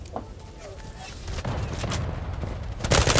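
Bursts of video game gunfire from a Kar 98 bolt-action rifle, including a loud sharp shot near the end, set against busy battle noise and someone speaking over it.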